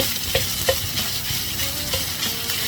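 Minced pork fries in hot oil with a loud, steady sizzle, while a utensil scrapes and taps a few times in the pan. No one speaks.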